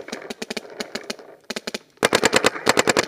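Loud bursts of rapid automatic gunfire at a running opponent outdoors, fired in quick rhythmic volleys with brief pauses, the final bursts closer and heavier.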